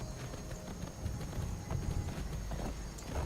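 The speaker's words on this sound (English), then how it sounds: "got my wild horse" A wild horse's hooves clip-clopping in a video game, a steady run of rhythmic hoof beats over faint game ambience, moderately close without speech.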